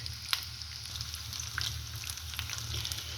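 A batch of potato and bell pepper kababs frying in hot oil in a pan, a continuous soft crackling sizzle with scattered small pops, steady and close, with a low hum beneath and no talking.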